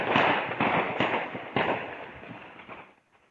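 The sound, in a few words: gunfire in a street at night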